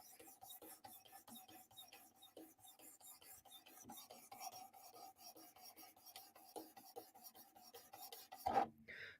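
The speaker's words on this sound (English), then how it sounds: "Work sharp field sharpener is all I have." Knife blade drawn across a Work Sharp field sharpener, giving a quiet, steady run of rhythmic rasping strokes, close and alone, with a sharper knock near the end.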